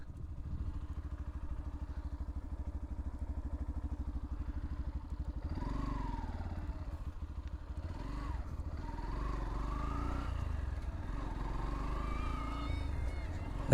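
Engine of a grey Yamaha FZ-V4 motorcycle on a test ride, a steady low rumble throughout that swells and revs up after the first few seconds, with someone talking over it.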